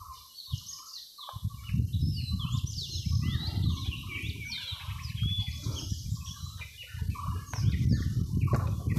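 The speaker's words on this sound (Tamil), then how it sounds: "காட்டுப்பகுதி நல்லா அமைதியாக இருக்குது குருவிகளோட சத்தமும் பூச்சிகளோட சவுண்டு மட்டும்தான் கேட்குது" Birds call and chirp repeatedly in a quiet forest on a mountain slope, with steady insect buzzing beneath; the calls are fairly close and clear, with no talking.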